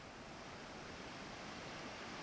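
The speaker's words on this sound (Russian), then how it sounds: "Мы наконец-то вышли на берег Берингового моря." Surf breaks on the Bering Sea shore of Kamchatka as a steady, faint hiss of washing waves, with no voices over it.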